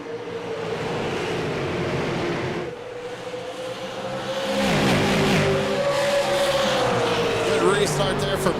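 Super late model race cars accelerate away on a restart at an Iowa short track. The engines roar loudly and build in pitch as the field picks up speed, under continuous race commentary.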